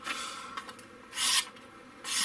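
A 21-in-1 tactical multitool blade slices through paper money, giving short raspy cutting strokes with a couple of louder, longer rasps near the end, close and without talk.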